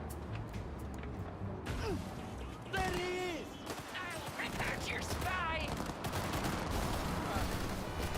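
Gunfire from a street gang fight in the open-world game Cyberpunk 2077 crackles through a busy city scene, with scattered shots and bursts under steady background noise and talking voices.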